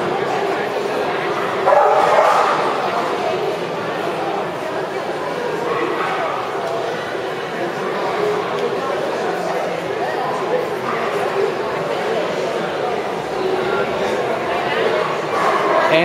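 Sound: Cavalier King Charles spaniel barking at dog show

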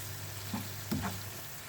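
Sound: frying minced meat in pan

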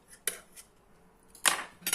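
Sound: eating with a spoon from a dish

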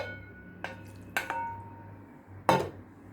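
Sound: pouring sauce over chicken and vegetables in a baking dish

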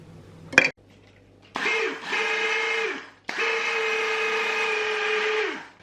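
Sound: grinding cabbage in a grinder

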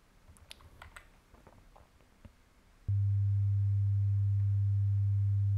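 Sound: clean sine wave tone

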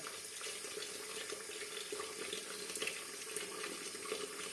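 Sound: water running from tap while washing

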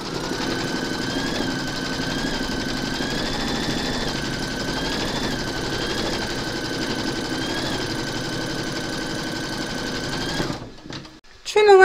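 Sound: embroidery machine stitching through batting in the hoop

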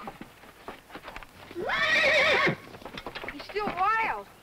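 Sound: horse neighing

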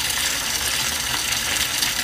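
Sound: water flowing into aquaponics fish tank

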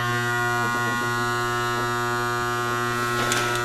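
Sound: Makita hypoid saw motor humming while stalled

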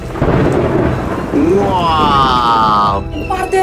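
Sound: thunder during a storm

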